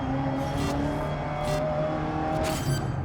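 A historic Ford GT40 race car in GRID Legends, its engine droning steadily at high revs with tonal harmonics and brief bursts of noise as it races on.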